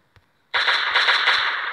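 Sustained burst of M16 rifle fire in a bunker shooting video game, loud and continuous for over a second after a brief quiet click, no voices over it.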